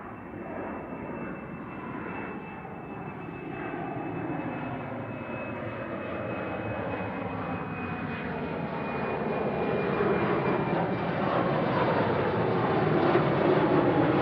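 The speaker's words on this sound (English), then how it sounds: "This is KLM heading back to Amsterdam. Up nice and quick." A KLM airliner takes off at Manchester Airport, a broad jet engine roar heard from a distance that steadily swells louder over the span, with a faint high whine running through it.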